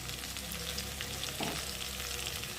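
Vegetables fry in a pan with ginger and cumin paste, making a soft, even sizzle with a brief stirring scrape partway through, heard faintly and without voices.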